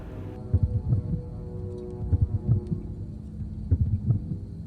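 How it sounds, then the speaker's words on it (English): Heartbeat cue for Scraptrap in the horror video game FNAF 6: low, muffled lub-dub thumps repeating at a steady rhythm, three clear pairs over a soft hum, close and isolated with no voices. "The sound of a heartbeat."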